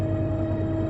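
Steady hum of a train accelerating in the Train Sim World 5 simulator, a continuous low engine drone with a fixed tonal whine held evenly throughout, no voices.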